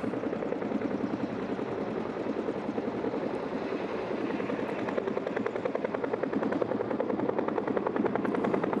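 Military helicopters landing together during a Marine aircraft demonstration at Arlington Park: a steady, loud rotor thump with a continuous engine roar throughout.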